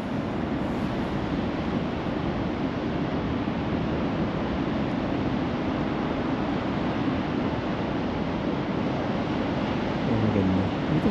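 Steady ocean surf rolling onto a beach at Kilcunda, a continuous broad wash of breaking waves with some wind noise on the microphone, no voices.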